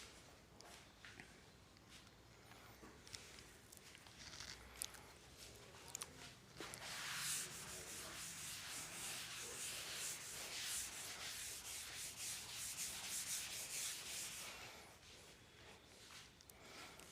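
Eraser rubbing on a classroom board during a physics lesson on units and measurements, a steady scraping swish that swells from faint strokes into several seconds of continuous loud rubbing before tapering off.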